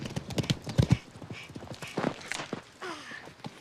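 A horse's hooves clip-clop rapidly in a 1998 film scene as the horse runs, starting as a quick, loud clatter of hoofbeats and giving way to softer movement and scattered sounds.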